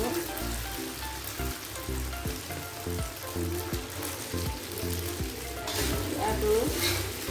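Kwetiau noodles fry in a wok with a steady loud sizzle, broken by frequent rhythmic clanks and scrapes of stirring, close and continuous with no voice.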